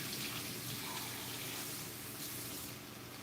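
Tap water runs steadily into a kitchen sink to soak a container of hardened gochujang, a continuous close hiss and splash with no pauses and no voices.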